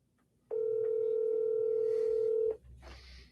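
A telephone emitting a single steady dialing tone lasting about two seconds, clear and up close, then cutting off into faint room noise during a cold-calling session.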